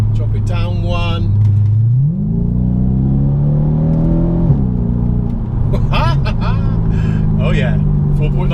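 An Audi S5 with the 4.2 V8 and Quattro drive is switched into sport mode and dropped a gear, and the engine note climbs loudly in pitch, eases off, then rises again, with someone talking over parts of it.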